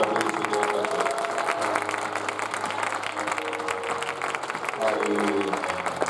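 Church congregation applauding the Lord, steady crowd clapping with voices and music under it throughout.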